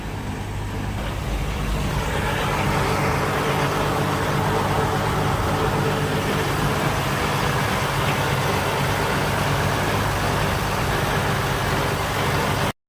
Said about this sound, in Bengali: আর এখানে রাত্রিবেলায় কিন্তু আমাদের ইঞ্জিন চলছে, দেখতে পাচ্ছ ইঞ্জিন রুমে।